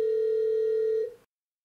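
A Grandstream GXP2170 desk phone sounds a steady electronic call tone for about a second, a single sustained pitch with overtones that then cuts off into silence.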